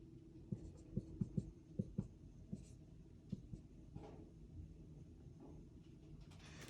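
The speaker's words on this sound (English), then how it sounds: "let me just write this" Equations handwritten during a physics lecture on electromagnetic waves: quiet, close scratchy taps and strokes of a pen or marker in irregular bursts, then sparser marks over a soft background hum.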